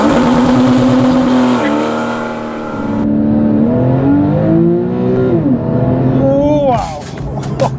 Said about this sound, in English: Let's try a start. So I stop, sport mode on. Let's see how fast this beauty accelerate.